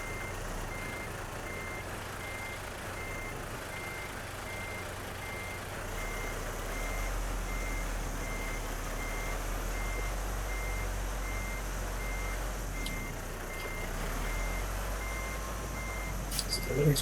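A truck in the Euro Truck Simulator 2 video game sounds its reversing alarm: evenly spaced electronic beeps repeat steadily for the whole stretch over a low, constant engine hum, with no talking.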